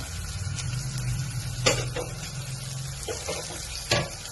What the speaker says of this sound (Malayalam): അതിലേക്ക് 3 സവാള എടുത്തിട്ടുണ്ട്. സവാള നന്നായി മുരിഞ്ഞിട്ട്